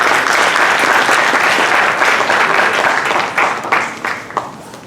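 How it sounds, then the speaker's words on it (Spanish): Strong audience applause welcoming a director at a university law seminar in Peru, many hands clapping in a dense burst that thins into a few scattered claps as it dies away. "Le recibimos con fuertes aplausos."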